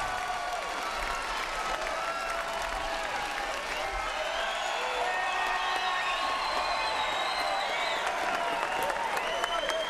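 A boxing arena crowd cheers and applauds after a fight finishes, a steady, fairly distant roar of clapping and shouting that holds throughout without letting up.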